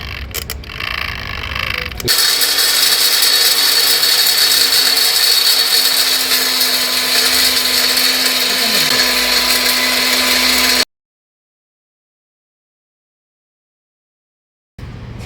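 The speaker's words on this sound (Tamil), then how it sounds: "இப்போ இந்த விரலி மஞ்சளை போட்டு அரைக்க போற அப்பே வந்து நல்லா அரைச்சிருவோம்" Dried turmeric fingers ground in a kitchen mixer grinder, a loud continuous motor whine and rattling grind after a brief pause, holding steady for several seconds before cutting off into silence and restarting briefly at the end.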